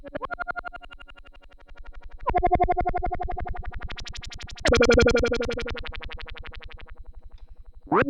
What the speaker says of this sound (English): Let's add a heap of filter LFO.